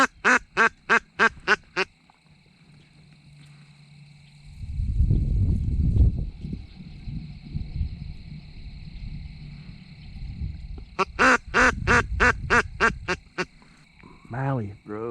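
Mallard ducks quack in rapid rhythmic bursts, likely from a duck call, loud and close at the start and end, with a stretch of wind or rustling and low voices in between during a Kansas duck hunt.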